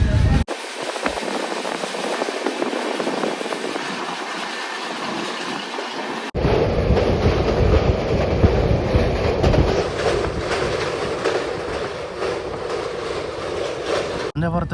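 Kacheguda–Mangaluru Central weekly SF Express, travelling through Kerala, rolls along with a continuous rumbling clatter heard from inside; the sound shifts suddenly louder and broader a few seconds in and stays steady.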